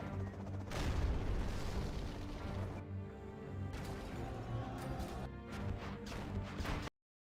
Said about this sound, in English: Could drop a few particle cannons.